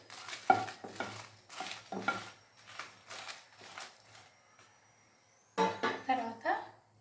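Drumstick leaf chilli powder ingredients being dry-roasted in a pan, with repeated scraping and stirring strokes in a steady rhythm, then a faster, louder burst of stirring near the end.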